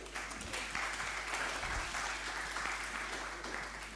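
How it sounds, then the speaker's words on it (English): Applause from an audience after a heritage month lecture, continuous clapping from a crowd heard at moderate distance and fairly quiet, with a low background hum. "please give her a round of applause again"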